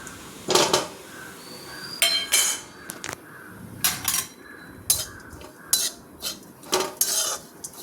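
Dry coconut roasting in a pan over low heat, stirred with a metal spoon that knocks and scrapes against the pan in loud, irregular bursts, with no one speaking.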